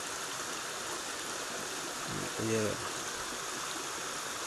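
A stream rushes steadily nearby as a broadband watery hiss, with a brief voice heard over it midway.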